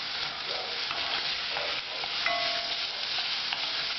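Diced pepper and pasted garlic frying in a pan on turned-up heat, stirred steadily for chilli con carne: a continuous bright sizzle runs throughout, with soft scraping strokes of the stirring at intervals and no talking.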